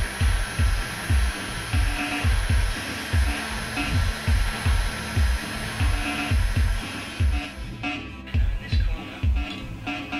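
A hot air rework tool blows steadily while heating BGA chips on a PS3 board during a yellow-light-of-death repair, a continuous loud rushing whoosh with rhythmic low pulsing throughout.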